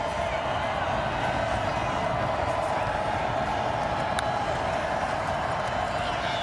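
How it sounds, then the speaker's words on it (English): A stadium crowd at a Stephenville college football playoff game in NCAA Football 2025 keeps up a loud, continuous roar with no breaks over the whole stretch. "Listen to this crowd here in Stephenville."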